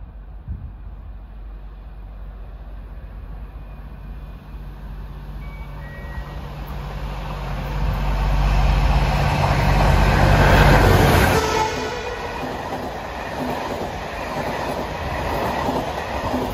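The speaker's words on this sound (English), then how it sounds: "Leader will be a Class 201 General Motors diesel." An Irish Rail Class 201 General Motors diesel leads a train on the busy Dublin to Cork line, rumbling in and swelling to a loud passing roar with rail clatter and a high whine before easing off, heard outdoors with no talking.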